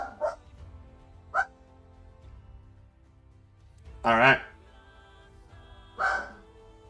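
A dog barks a few times in short separate bursts, moderately close, alongside people talking and game chatter.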